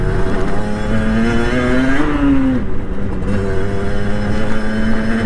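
A motorcycle engine revs up loud and close while riding on a family road trip, its steady drone rising in pitch once before settling back into a continuous cruising roar.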